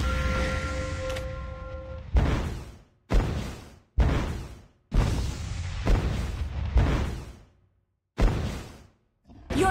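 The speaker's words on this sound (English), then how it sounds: "Your team destroyed a turret!" A series of heavy booming impacts, one after another with short gaps, as a turret is destroyed in a Mobile Legends match; the hits land close and loud after a sustained tone at the start.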